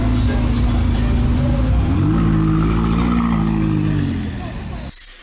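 A Porsche engine revs loud and close at a car-spotting scene in Düsseldorf, a steady roar rising in pitch partway through before dropping off near the end, with road noise throughout.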